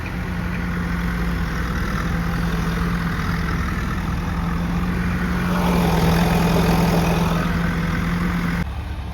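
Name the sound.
tractor engine straining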